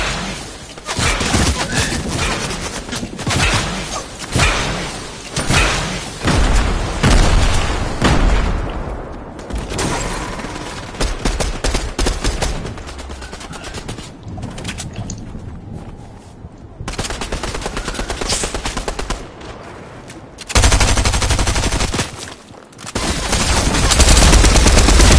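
Video game gunfire aimed at Santa's sleigh, with dense, loud bursts of rapid machine-gun fire and booms running almost nonstop, broken by only a few brief gaps.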